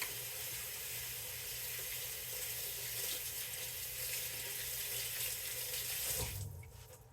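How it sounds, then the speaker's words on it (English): A kitchen faucet runs as a steady, loud broadband rush while a hand is rinsed under it, then shuts off near the end and the sound drops quickly away. "Just rinse my hand off."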